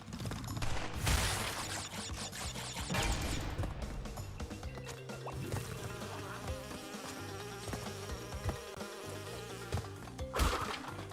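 Bees buzz loudly and continuously at close range in a video game, a dense droning hum mixed with clattering, crashing game effects throughout.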